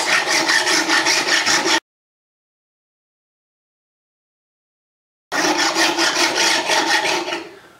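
An Ovation guitar's frets are leveled with a file, making loud close rhythmic rasping strokes in two bursts separated by a few seconds of silence.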